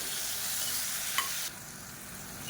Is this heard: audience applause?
no